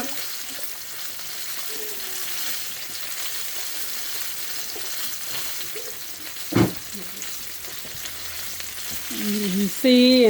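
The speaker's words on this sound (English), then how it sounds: "So now I'm going to get them boiling." Potatoes cooking in broth in a pan give a low, steady bubbling sizzle with light stirring and a brief clatter midway, plus a short burst of voice near the end.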